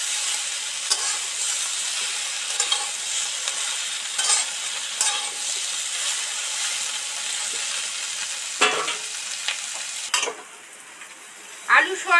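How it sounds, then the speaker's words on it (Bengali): Soybeans deep-fry in oil in a thick-bottomed wok, giving a continuous bright sizzle with occasional stirring scrapes and clinks, close and loud, with no talking. "সয়াবিন তো ডিপ ফ্রাই করে ভেজে নিলাম"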